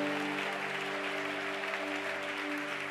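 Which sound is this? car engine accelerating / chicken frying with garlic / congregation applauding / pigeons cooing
congregation applauding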